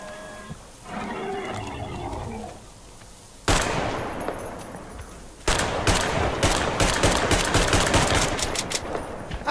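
Gunfire in the Metro Exodus video game: loud bursts of rapid automatic shots, first a single heavy blast then a sustained dense volley near and forceful, with a brief muffled growl-like passage before.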